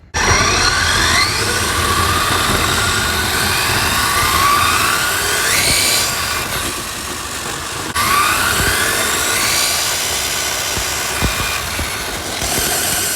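A Traxxas C8 Corvette RC car with a brushless conversion on a speed run, its motor whining loudly with rising pitch sweeps as it accelerates, passes and revs again, close and continuous.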